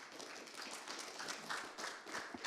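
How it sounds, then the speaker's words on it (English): Audience applause at the end of the last talk of the day at an SDR conference, a dense, steady patter of many hands clapping at moderate distance without speech. "dear audience, please give Henning a warm applause"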